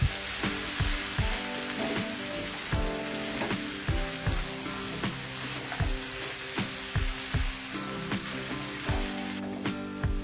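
Noodles stir-fried with mustard greens and cabbage in a pan, a steady sizzle punctuated by regular rhythmic spatula clanks and scrapes, close and fairly loud with no talk.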